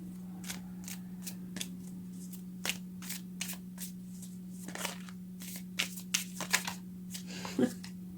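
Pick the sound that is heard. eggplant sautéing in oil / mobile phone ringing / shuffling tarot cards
shuffling tarot cards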